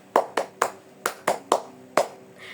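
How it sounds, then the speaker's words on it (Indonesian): A classroom group claps a rhythmic spirit clap in time, seven sharp, close, evenly spaced hand claps in quick succession with no talking over them. "Tepuk semangat 1, tepuk semangat 2, tepuk semangat 3"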